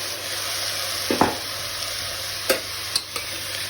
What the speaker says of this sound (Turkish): bir iki karıştırıyoruz.